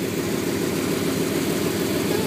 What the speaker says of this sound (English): It's a Dodge Ram engine,